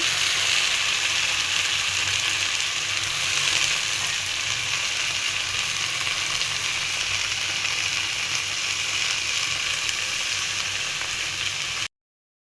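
Leafy greens sizzle and crackle steadily in hot mustard oil tempered with black cumin and dried chilli, a dense, even frying hiss that holds close and loud for about twelve seconds before stopping abruptly.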